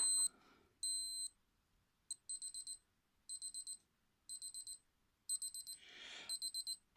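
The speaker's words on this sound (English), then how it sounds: "Slightly nicer beep." A Casio W-214H digital watch alarm beeps in quick high-pitched clusters of four, repeating steadily in a quiet room with a brief rustle between.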